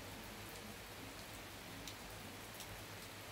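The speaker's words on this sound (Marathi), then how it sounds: "हे बघा असं पाऊस आलं" Steady, dense rain falling outside a home, a continuous even hiss with faint low rumble throughout, no voices.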